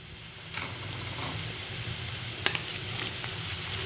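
Tomatoes, onions, curry leaves and green chillies sautéing in a pan make a steady close sizzle, with a couple of faint clicks from stirring partway through.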